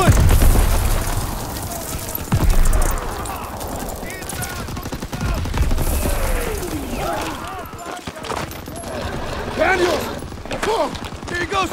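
Heavy battlefield gunfire and explosions rumble through a Call of Duty WW2 mission, with bursts of automatic fire and booming impacts. Shouted voices are mixed underneath.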